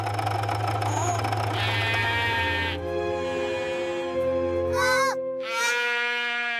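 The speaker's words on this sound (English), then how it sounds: "Oh, sheep." Several loud, wavering sheep bleats, one after another, close by over a steady low background hum.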